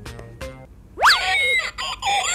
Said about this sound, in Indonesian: kalau dotnya dicabut bisa ngeluarin suara tangisan